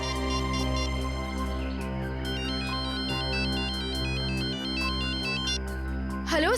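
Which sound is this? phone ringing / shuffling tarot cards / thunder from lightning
phone ringing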